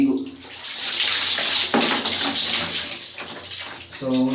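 Water splashes and pours steadily during a bath, a dense wash of running water that swells and ebbs for about four seconds, with a brief clearer trickle near the end.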